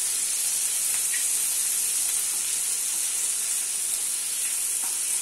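Tomatoes for chutney sautéing in a pan hiss steadily with a bright, even sizzle and an occasional faint pop, uninterrupted by speech.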